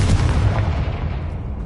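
A Confringo explosion spell in a Hogwarts video game, a loud, deep booming blast that rumbles and decays over a second or two, with no voices.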